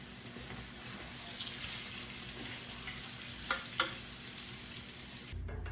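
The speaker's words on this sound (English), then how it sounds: "Once your pork chops have browned on one side, we're going to turn them over and brown the other side." Pork chops browning in a frying pan give a steady, fairly quiet sizzle close by, with two brief clicks near the end, no talking.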